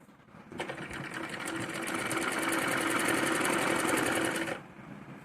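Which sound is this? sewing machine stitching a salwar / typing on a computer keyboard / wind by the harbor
sewing machine stitching a salwar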